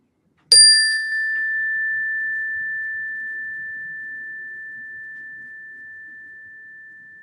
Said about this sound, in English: With the sound of the chime, we shall begin the practice.